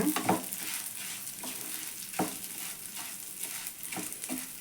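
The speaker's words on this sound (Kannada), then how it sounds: "ಶಾವಿಗೆ ಹಾಕ್ತಾ ಇದ್ದೀನಿ ಸಿಮ್ಮಲ್ಲಿ ಇಟ್ಕೊಂಡು ಚೆನ್ನಾಗಿ ಫ್ರೈ ಮಾಡ್ಕೊಳ್ಳಿ" Vermicelli fries gently on a low flame with a soft continuous sizzle, punctuated by several light stirring scrapes against the pan at irregular intervals.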